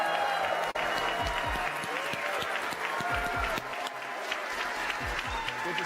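A crowd at an AMD product launch event applauds and cheers steadily throughout, a dense, continuous wash of clapping with a few louder whoops rising above it.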